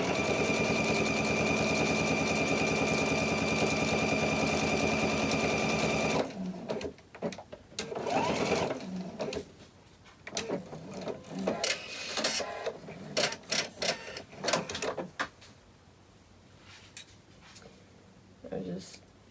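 A sewing machine running continuously and loud as it stitches a fabric bag closed, then stopping abruptly; clicks, handling rustle and a voice follow.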